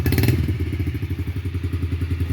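A Yamaha TTR-50 dirt bike engine, just rebuilt and still a little cold, idles close by with a fast, steady, chugging thump. A brief blip of throttle comes at the very start.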